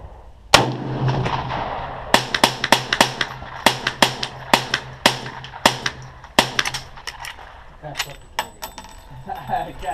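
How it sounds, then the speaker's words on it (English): A .45-70 rifle fired outdoors, with sharp loud cracks in quick bursts, including a three-shot group at 50 yards. Several shots ring out close by. "Okay, I just shot a three shot group at 50 yards."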